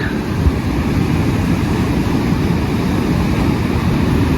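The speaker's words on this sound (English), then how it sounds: "A couple of waves at Snapper Rocks this morning." Ocean waves break at Snapper Rocks in the early morning after an ex-tropical cyclone, a loud and continuous wash of surf with a steady low rumble.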